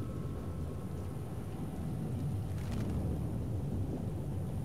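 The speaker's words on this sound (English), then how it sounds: "I placed the order for the storm." A thunderstorm summoned by druids in The Witcher, a steady roar of rain with a low rumble of distant thunder that swells slightly partway through and carries on without a break.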